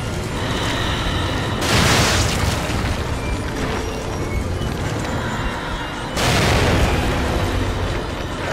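Two heavy grenade blasts from the horror video game The Evil Within burst over a continuous dense rumble of game ambience, each a loud booming explosion followed by a lingering roar.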